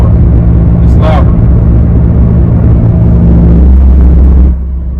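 Worn rear passenger-side wheel bearing on a 2019 Ford Fiesta, heard as a steady low droning rumble under road noise while driving, loud and continuous for about four and a half seconds before easing; a brief voice-like blip occurs early on.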